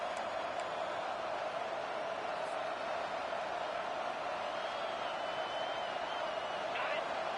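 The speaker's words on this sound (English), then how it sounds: "Listen to the crowd energy here in the early going" A stadium crowd roars and cheers at a college football game between NC State and UCLA, a broad distant wash of noise running steadily throughout with no clear breaks.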